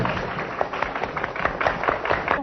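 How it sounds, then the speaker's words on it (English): Audience applause for an Australian children's choir on a talk show stage, a dense continuous patter of many hands clapping, lively and even across the whole stretch. "Give them another round of applause."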